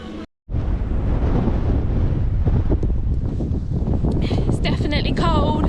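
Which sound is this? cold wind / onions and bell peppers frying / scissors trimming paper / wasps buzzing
cold wind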